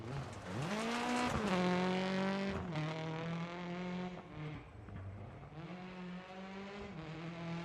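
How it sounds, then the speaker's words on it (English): A Mitsubishi rally car drives through a Finnish forest on a rally stage, its engine revving up and down through gear changes. The sound is fairly faint and carries from a distance, with no talking. "A nice sound of the Mitsubishi as it's coming through the forest though"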